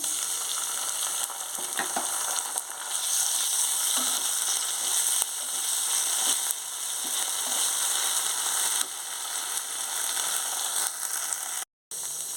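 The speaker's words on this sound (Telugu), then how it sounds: "కరివేపాకు కూడా వేసేసుకుంటున్నాను కొంచెం వేగాలి" Curry leaves, onions and ginger garlic paste fry in a pan with a loud, steady, close sizzle and a few faint stirring knocks, broken by a brief cut near the end.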